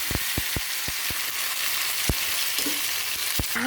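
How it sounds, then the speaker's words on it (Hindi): Onion, crushed ginger, tomatoes and chillies fry in a pan with a constant bright sizzle, broken by several sharp clicks and taps of a spoon stirring against the pan, close and clear with no talking. "उसके बाद में मैंने डाला इसमें अदरक कूट के, और ये डाल दिए मैंने टमाटर और मिर्च।"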